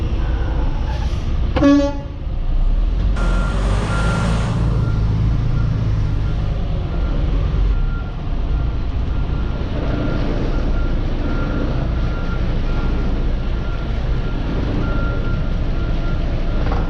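A truck backing into a numbered dock at a port, with reversing beeps and a horn-like toot over a steady diesel engine rumble and road noise, close and continuous.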